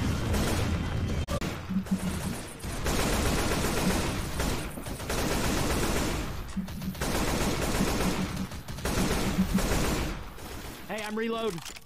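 Sustained automatic gunfire from Left 4 Dead 2, loud and dense bursts of rapid shots rolling on for most of the stretch with brief pauses, a voice briefly mixed in near the end.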